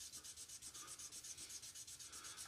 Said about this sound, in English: So if you just get a sanding stick and just sand that off